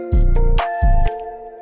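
A programmed drum roll in a homemade beat plays two quick bursts of rapid, loud, punchy drum hits with a ringing synth tone sustaining between them.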